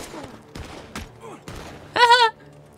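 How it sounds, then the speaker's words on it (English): A few sharp gunshots in the Wild West game Red Dead Redemption 2, separate cracks spaced about half a second apart, followed by a short louder tonal sound. "Charles is shooting at someone. Shit, someone's shooting at me."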